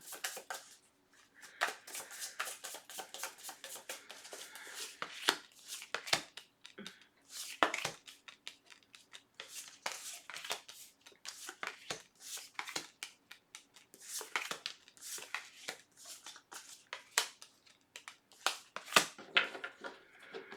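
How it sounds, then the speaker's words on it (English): A deck of tarot cards is shuffled by hand close up, with rapid bursts of riffling, flicking and sliding card noise that repeat irregularly and are heard alone, without talk. "let's look at your 2021 love forecast here, if I can shuffle the cards well"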